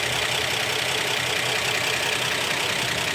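A 1955 Chevy 210 with a newly fitted carburetor idles steadily and close by, a constant broadband engine rumble that holds even for the whole stretch with no talk over it.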